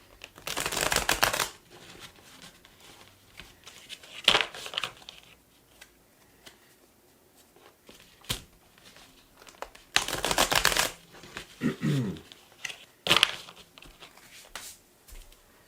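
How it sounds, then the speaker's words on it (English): Tarot cards being shuffled in several separate bursts, each a brisk riffling flutter lasting about a second, with quieter handling taps and pauses in between. "I'm going to shuffle 2 more times on the side"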